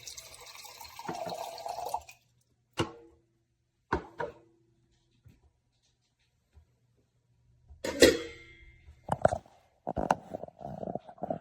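Water from a ZeroWater glass filter dispenser drips and trickles in short, separate bursts with quiet gaps between them, close and moderately faint.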